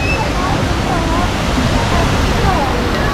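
River at Tala River Park in Bailen, Cavite rushing loudly as a constant broad roar, with faint voices of people nearby blended into the water noise.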